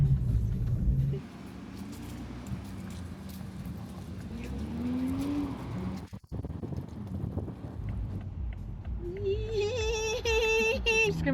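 A 2020 Toyota Supra 3.0 L automatic drives along with a steady low engine rumble and road noise, some wind buffeting, and a brief dip before a rising, whining engine note near the end.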